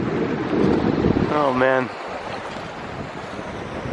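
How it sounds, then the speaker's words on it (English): A sailboat cruising along the Nile under sail, with steady broadband wind and water rush throughout and a brief spoken exclamation near the start. "it is so pleasant to just hear the sound of the water and the wind while we're cruising along"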